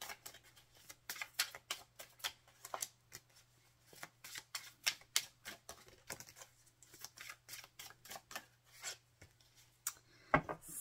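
Tarot-style song cards being shuffled and drawn by hand, a rapid series of crisp riffling flicks and soft rubs in uneven bursts, close and fairly quiet, with no talk and a low steady hum underneath.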